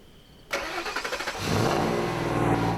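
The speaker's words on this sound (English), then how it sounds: "a great way to get there is in a red jammer bus" Engine of a red jammer tour bus in Glacier National Park starting with a sharp catch, cranking in rapid pulses, then settling into a loud, steady running rumble close by.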